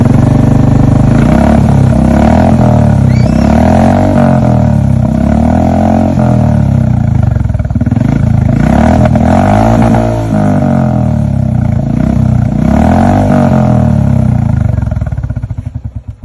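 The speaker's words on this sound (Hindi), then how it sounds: "ये है stainless steel rust free exhaust. चलिए सबसे पहले इसकी साउंड सुन" Royal Enfield Meteor 350 fitted with an aftermarket stainless steel rust-free exhaust, idling with a loud, steady low thump and occasional revs swelling and falling, close up and alone.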